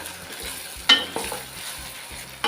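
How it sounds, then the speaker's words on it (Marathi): Ginger garlic paste fries among cooked onion and tomato in a pan, a low steady sizzle broken by a few clear spoon clanks and scrapes as it is stirred, close and fairly quiet. "आता ह्यामध्ये आपण घालायचं आहे आलं लसूण पेस्ट चमचा घालते मिक्स करून घेऊया"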